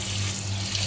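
Cold water gushing steadily from a household faucet, a continuous close rushing stream with a low steady hum beneath it and no voices.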